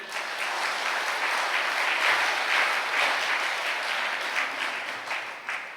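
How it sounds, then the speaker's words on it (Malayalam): A church congregation at a Catholic sermon bursts into sustained clapping, dense and steady with many hands, swelling slightly and fading a little toward the end, loud and close. "ഒന്ന് കൈയടിച്ചേ."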